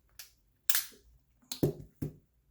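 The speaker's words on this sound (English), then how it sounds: "I'm just trying a dry shoot, and we can eject them very easily" A Smith & Wesson 5-shot J-frame .38/357 Magnum revolver is dry fired, giving four sharp, close metallic clicks at uneven intervals with silence between them.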